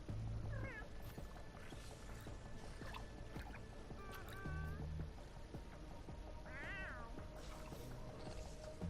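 A pet cat in the video game Fortnite Save the World meows three times, short and high, at low volume over busy in-game background noise.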